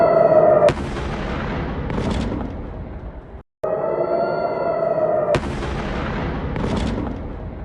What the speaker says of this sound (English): Breaking just now, a direct impact of a ballistic missile from Yemen on Tel Aviv.